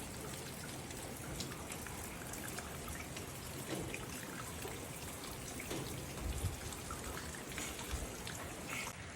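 Heavy rain falls steadily on a farm field, a dense, even hiss of drops with scattered louder patters and splashes, continuous and unbroken with no voices.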